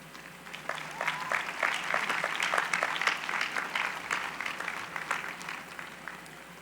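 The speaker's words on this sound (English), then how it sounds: "With your applause." An audience at a University of Houston commencement ceremony claps for the faculty. The applause is moderate and sustained, building and then slowly tapering over several seconds, with faint crowd murmur underneath.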